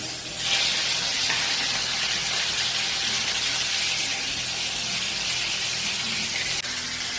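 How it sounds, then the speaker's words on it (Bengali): Fish fry in hot oil in a home kitchen, a loud, steady sizzle and hiss that carries on without a break, with no talk over it. "অর্ধেক মাছ ভাজা হলো"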